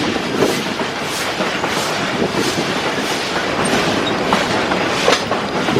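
The Georgetown Loop Railroad train in Colorado rolls across a viaduct with a loud, continuous rumble, heard from on board. Rhythmic clickety-clack from the wheels repeats over the rail joints throughout.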